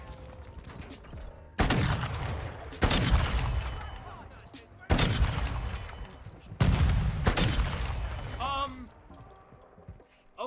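Sniper rifle fire in Modern Warfare 2, several loud sharp shots a couple of seconds apart, each with a booming decaying tail, mixed with game sounds and a little talk.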